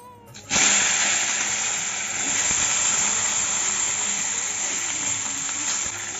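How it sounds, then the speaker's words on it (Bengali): Eggplant slices drop into hot oil left over from frying fish, setting off a sudden loud hiss that then settles into a strong, steady sizzle. "মাছ ভাজার তেলেই আমি বেগুনগুলো ভেজে নিচ্ছি।"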